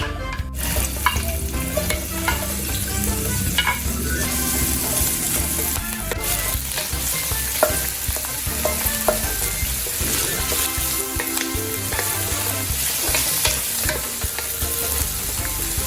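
Large-diced onion for beef pepper steak cooks in a pan, a loud continuous sizzle with frequent stirring clatter and scraping throughout, close up and with no talking.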